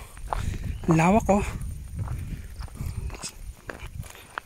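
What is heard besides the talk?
footsteps walking on a steep road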